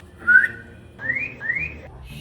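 Three short rising whistle tones during a game of camouflage hide-and-seek: one early, then two in quick succession, clear and fairly close with no talk over them.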